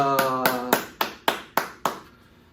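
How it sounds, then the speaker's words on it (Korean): Clapping during a children's elementary-department joint church service, seven distinct claps in a steady rhythm following a sung tone, fading out at the end. "하나님께 영광의 박수 올려드리겠습니다."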